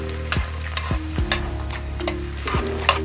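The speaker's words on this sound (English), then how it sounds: "I'm just going to let this saute for a while. So we're going to stir it in." Scallion, onion, tomato and Scotch bonnet pepper sauté in a pan with a steady close sizzle, broken by four or five scraping stirs of a utensil at roughly even intervals.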